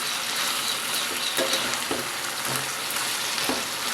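Chicken curry with red chili paste sizzles steadily in a pan, a continuous frying hiss with a few soft stirring scrapes.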